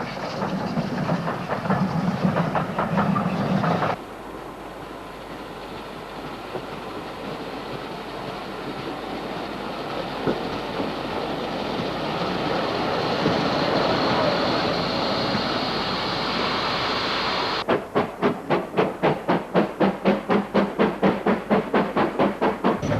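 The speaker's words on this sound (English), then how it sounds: "The last train of the day from Bridgnorth now heads southwards, interrupting the birdsong at Hay Bridge." A steam train rumbles past nearby with rhythmic clickety-clack of wheels over rail joints, the noise swelling and shifting before a fast, regular clatter at the end, amid birdsong at Hay Bridge.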